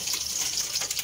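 Water boils steadily in a pot for crab and corn soup, a close, continuous bubbling hiss without any pauses.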